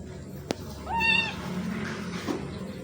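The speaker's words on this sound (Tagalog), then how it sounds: "Magpapaalam lang ako sa pusa kong si Liet." A pet cat named Liet gives a single clear, rising meow at close range, preceded by a sharp tap, with faint room noise afterward.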